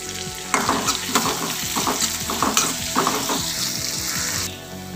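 Onions and dried chillies sauté in a pan for a village-style goat bone sambar, a steady loud sizzle broken by rhythmic scraping strokes of a spoon stirring, close up, with no talking.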